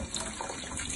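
Cold tap water runs steadily while cold ramen noodles are rinsed under it, a close, continuous splashing rush heard alone.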